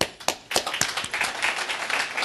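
An audience at the JSE 2012 annual results presentation claps: a few separate sharp claps first, then they quickly build into fuller, steady applause, close and fairly loud, with no talking.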